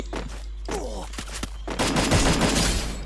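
Rapid gunfire from the mobile battle-royale game Free Fire, bursts of shots loud and close, with a denser volley filling the second half.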